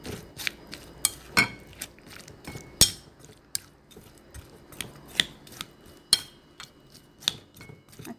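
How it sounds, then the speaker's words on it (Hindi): Fruit chaat ingredients being tossed in a bowl give sharp, irregular clinks and scrapes of a spoon against the dish, a quick uneven rhythm of close knocks with no talking. "इन सब को अच्छी तरह मिक्स करेंगे।"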